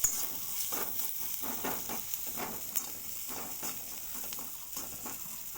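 Chilli pieces frying in a pan: a continuous soft sizzle and hiss with a few light stirring scrapes, fairly quiet and with no voices.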